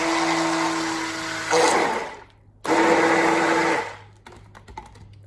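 A blender whirs loudly in two bursts, motor pitch shifting as it runs, with a short pause between and a low hum afterward.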